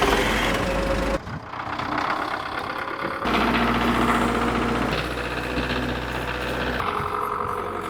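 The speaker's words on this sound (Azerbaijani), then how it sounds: "qalxdım traktora." A tractor engine runs steadily on farmland in Tovuz while ploughing, a continuous low mechanical drone with a steady hum that shifts slightly in tone partway through, loud and close throughout.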